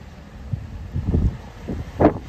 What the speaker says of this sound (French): Là le vent se lève